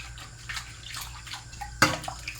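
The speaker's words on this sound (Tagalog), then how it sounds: "Nagbabanaw na ako ng mga pinggan." Water splashes and sloshes in short bursts with a sharper clatter near the end, like dishes being rinsed by hand, close and fairly quiet.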